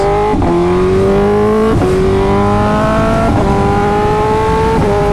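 A BMW S1000RR sport motorcycle engine screams continuously at high revs, pitch climbing through several quick gear shifts, loud and close with no voices.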